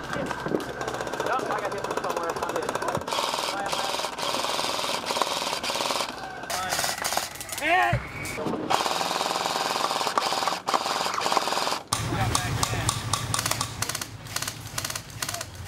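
Rapid bursts from an airsoft gun laying down cover fire during an outdoor skirmish game, close and loud, mixed with people talking and shouting throughout.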